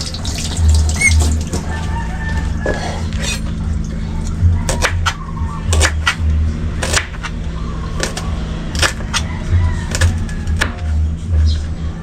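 Tap water runs steadily into a pot in a home kitchen, a continuous broadband rush with occasional clanks and knocks of cookware, close and fairly loud.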